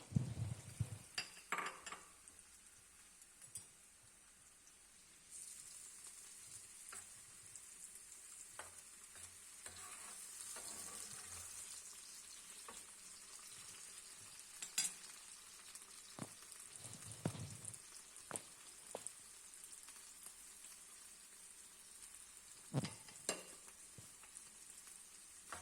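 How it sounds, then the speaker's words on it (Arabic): Tomatoes frying in hot oil in a pan, a soft continuous sizzle with scattered scrapes and clinks of a utensil stirring, heard up close and alone. "نحطو فيها الزيت لين يسخن، ومن بعد نحطو الطماطم"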